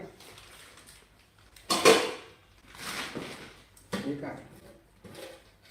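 Steel pots, a kadhai and lids from a distributed utensil set are handled, giving a loud metallic clatter followed by softer knocks and scrapes while a person talks throughout.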